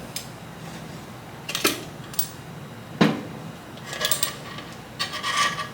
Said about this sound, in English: Slide the bolts back, just hand tight